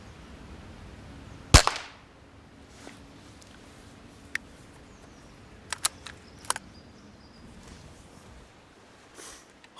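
A single sharp airgun shot cracks near a garden feeder during hide shooting for squirrels, followed by a few fainter clicks and taps in a quiet outdoor setting.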